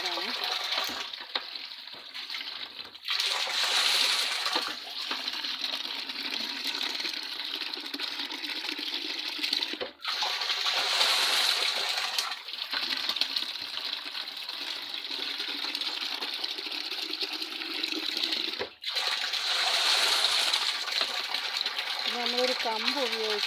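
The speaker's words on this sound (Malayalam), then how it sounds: "വെള്ളം വീണ് നിറയുന്നോടം വരെ." Tap water pouring steadily into a 500-litre jar while fertilizer is added and mixed, a continuous gushing rush broken by brief pauses, heard close with faint background sound.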